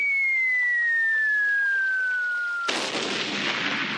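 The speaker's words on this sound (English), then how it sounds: "really gets the hang of firing the cannon" A small toy cannon fires on a 1970s TV show: a long, clear whistle slides slowly downward, then a sudden bright burst of noise cuts in and lingers, with no voices.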